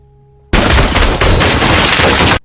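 Sustained gunfire exchange from behind a wall in a film scene, a dense continuous barrage of shots holding loud and steady for about two seconds after a sudden start, with no talk.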